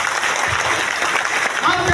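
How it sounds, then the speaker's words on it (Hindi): Audience at a large community meeting event in Latehar, Jharkhand clapping, a dense continuous patter of many hands with voices mixed in throughout. "हम चाहते हैं कि अपने लिए जबरदस्त ताली बजाइए"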